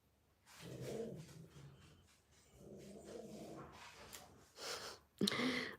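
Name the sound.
dog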